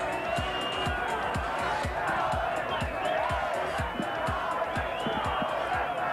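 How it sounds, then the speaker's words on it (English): Crowd chanting rhythmically at Mount Panorama, Bathurst, after the 1995 Bathurst 1000 race, a loud repeated chorus of massed voices with steady pulsing beats. "Listen to the crowd chanting, Larry, Larry, Larry, the hero."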